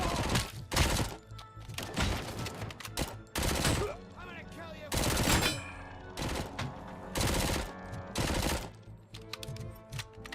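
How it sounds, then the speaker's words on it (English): Gunfire in Robocop: Rogue City punching through walls, loud bursts of rapid automatic shots in repeated volleys with brief gaps between, close and dominant, with debris crackle trailing each burst. "I really like the way we can just shoot through the walls."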